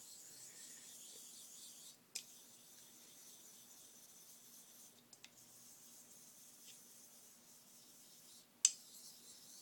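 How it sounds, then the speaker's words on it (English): A straight razor is honed on a small, odd-shaped Okudo koppa natural stone with slurry, giving a faint, steady rubbing hiss with a few soft clicks as strokes change direction, close and alone. "any cutting action that you see going on from the razor is from particles made from this stone"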